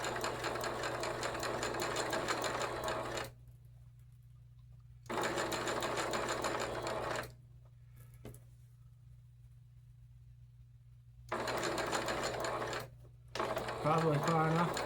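Sewing machine stitching a gown overlay, driven by a foot pedal, running in three loud steady bursts separated by quiet pauses while someone sews and pins.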